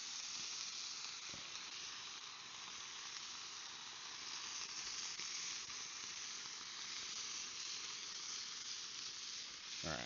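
Canned green chili sizzles in a pan over a campfire, giving a steady, dense frying hiss that runs evenly throughout at a moderate, close level with no voices.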